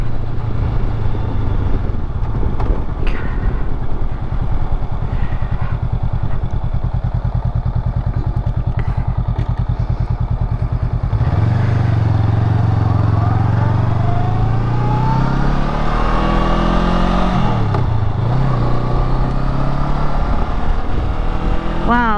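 A 2020 Honda Rebel 500 motorcycle rides through the evening, its engine droning steadily with shifts in pitch as it speeds up and slows, wind noise throughout and a voice speaking over it.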